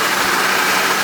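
A 2003 Mercedes C230 Kompressor engine idles smoothly and steadily, a loud close hum with an even broadband whir and no voices.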